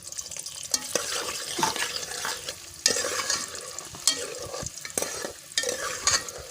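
Onions hitting hot ghee in a pan for chana dal, with a steady close sizzle broken by repeated sharp clacks of a spoon stirring against the pan, no voices.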